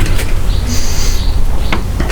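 A large door on a 2001 portable generator swings open, giving a brief, loud scraping and squealing sweep over a steady low hum, with a few clicks afterward.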